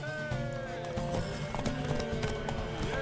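Horse hooves clip-clopping at a steady trot in The Witcher 3, continuous and fairly close, with faint voices and a brief whinny mixed in.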